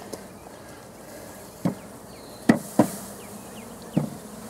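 Honeybees buzzing around a hive as a frame is shaken into it, a faint steady hum broken by a few sharp knocks and thumps from the frame.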